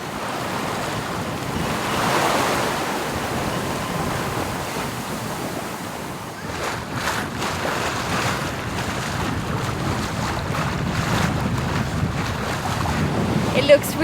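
A sailboat running through waves in good wind on approach to a bay, steady rushing water and wind noise buffeting throughout, with gusts and splashes growing rougher in the second half.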